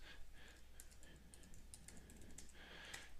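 Quick bursts of keystrokes on a computer keyboard, crisp clicking taps in uneven runs, close but quiet against a low steady hum.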